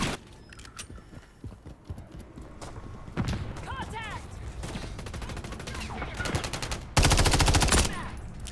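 Bursts of automatic gunfire in the Call of Duty Modern Warfare 3 beta, rapid repeated shots growing louder toward the end amid game effects, with a player talking over the action.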